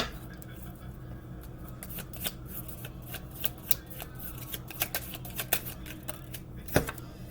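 Spell cards being shuffled close by, a steady papery riffle with many small sharp clicks and snaps over a low background hum, with no voice present.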